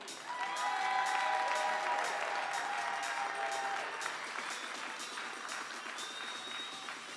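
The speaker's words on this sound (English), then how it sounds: "give a round of applause, please, to Jeanette Durstar." Spectators at a European Championships junior women's 10m air rifle final applaud for the seventh-place shooter with moderate, continuous clapping in the hall. Faint tonal sounds drift through early on, and the applause stays fairly distant and even throughout.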